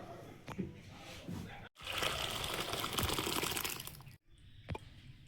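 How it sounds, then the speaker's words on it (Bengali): Cooked dal is poured out in a wet, gushing stream lasting a couple of seconds, framed by quieter handling sounds and brief pauses in a home kitchen. "ডালটা হয়ে গেছে, ঢেলে নেব"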